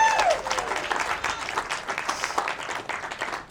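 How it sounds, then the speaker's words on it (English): A brief burst of audience applause for a volunteer at a magic show, dense clapping that swells at once and gradually thins over a few seconds, with a faint voice briefly rising at the start. "And everyone give her a big round of applause for helping out."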